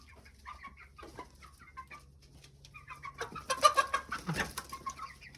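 Chickens and a rooster cluck softly at first, then louder clucking and squawking from several birds builds up, close by on a quiet farm.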